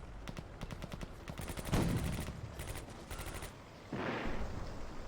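Gunfire in the WWII strategy game Combat Mission, set in the Stalingrad suburbs: rapid machine-gun bursts rattling in a steady rhythm with a couple of heavier booming impacts, dense and loud, without speech.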